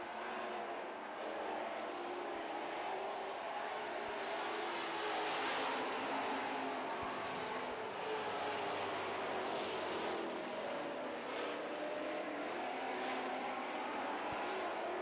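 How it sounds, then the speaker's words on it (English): Super trucks race around a track in a steady roar of engines that swells and fades as they pass, with no voices over it. "Glenn Manning in the 55 with a little push in the truck"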